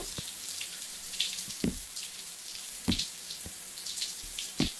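Water runs for a bath in the Roblox game The Morgue Shift, a steady hissing rush with scattered splashy knocks and thuds over it.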